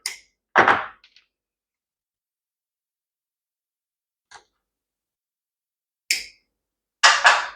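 A few sharp, isolated snips and clicks as a fuel line on a weedeater carburetor is cut, separated by long silent gaps, close and fairly loud.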